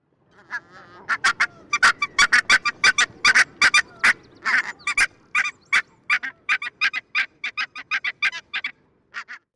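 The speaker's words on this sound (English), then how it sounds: "the bird for this week's episode, the Barnacle Goose" Barnacle geese, an Arctic-breeding species, give a long series of sharp, yapping honks in quick irregular succession, loud and close, with no voices present.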